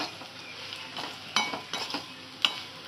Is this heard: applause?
no